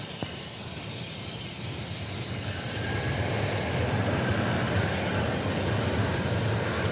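A Frontier Airlines jet arriving from Midway Airport at DFW Airport, its engine roar building steadily from a broad rumble into a loud, sustained wash of noise with no voices over it.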